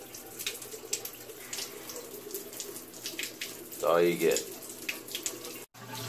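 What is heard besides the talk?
water running from a tap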